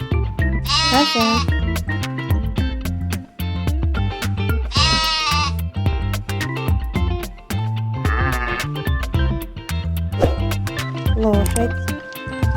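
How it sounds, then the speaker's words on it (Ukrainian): A goat in a children's cartoon gives three wavering bleats, spaced several seconds apart, each loud and quavering above a lively, busy backing melody. "Коза."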